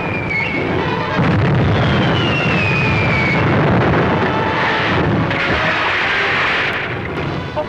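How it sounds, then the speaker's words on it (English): Torpedoes fired in a 1942 Don Winslow of the Navy movie serial: a sustained loud rushing, roaring burst with a descending whistle-like streak, continuous for several seconds without talk. "Four torpedoes fired, sir."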